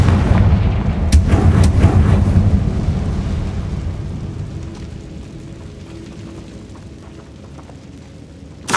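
Fiery Confringo spell blasts in the Hogwarts Legacy game on PS5, a cluster of loud booming explosions with sharp cracks at the start that then fade into a long rumbling decay.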